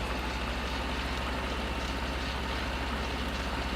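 Tractor engine idling in Farming Simulator 2013: steady low diesel throb, continuous and even, with no other sounds over it.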